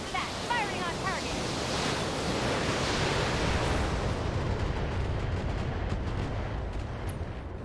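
Heavy weapons fire from mechs in the game BattleTech, a dense continuous roar of explosive rumble and crackling blasts that stays loud throughout, with a few higher chirping tones early on and a slight thinning toward the end.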